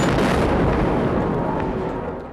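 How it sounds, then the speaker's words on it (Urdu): A bomb concealed inside a tape recorder detonates, a loud, broadband roaring blast that fills the whole moment and slowly decays, with no voices over it. "زوردار دھماکے سے ٹیپ ریکارڈر پھٹ گیا"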